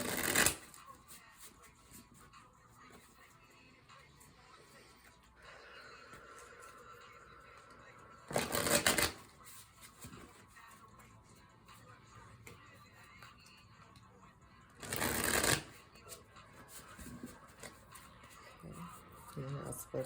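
A deck of tarot cards being shuffled in three short, crisp riffling bursts spaced several seconds apart. Quiet room sound fills the gaps between them.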